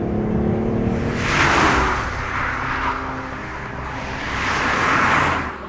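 A BMW i8 hybrid sports car accelerates hard, its engine note swelling into a loud roar, easing off, then surging again, with no talking.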